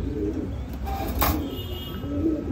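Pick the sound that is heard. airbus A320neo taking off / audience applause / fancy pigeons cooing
fancy pigeons cooing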